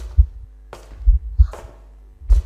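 Heavy, muffled heartbeat thumps from the Slender Man horror video game, pulsing in a steady double-beat rhythm of four close, loud low thuds with no voices over them.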